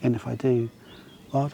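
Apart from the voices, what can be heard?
No everyday noises stand out.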